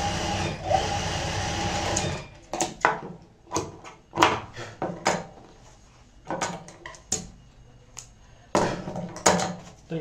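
A sewing machine stitches a fabric pouch in short bursts of fast mechanical whirring, separated by pauses with small clicks and handling knocks, close and fairly loud.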